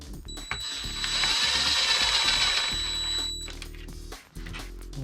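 Ratchet clicking steadily as bolts are tightened on an Arrma EXB RC car's wheelie bar during a rear end rebuild, a close, continuous metallic ratcheting run lasting a few seconds with brief pauses.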